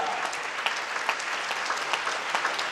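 A church congregation claps hands in a dense, continuous burst of applause, steady and fairly loud throughout.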